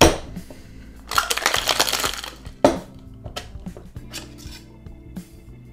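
Cocktail with egg and crushed ice shaken hard in a shaker, a dense rattling burst of ice lasting about a second, then scattered clinks and knocks of the shaker being handled.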